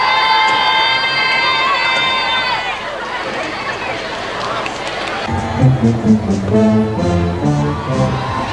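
Flag-waving crowds in Paisley cheer the Queen as she leaves a building, a loud sustained roar of voices and shouts, with brass band music rising under the cheering in the second half.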